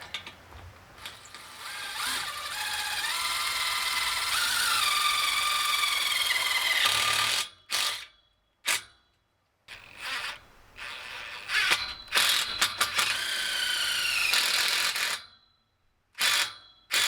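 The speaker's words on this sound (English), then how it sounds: "bit trickier getting those self-tapping screws to want to go into our pipe" Drill driving self-tapping screws into the steel pipe of a high tunnel frame, a close whirring and ratcheting whine that labours for several seconds, then breaks into short bursts separated by silences.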